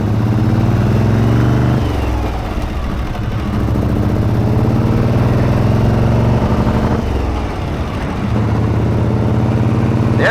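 A 1937 Harley-Davidson Knucklehead motorcycle engine running after a kick start, a loud, steady, close mechanical drone with a brief dip in the middle and no voices.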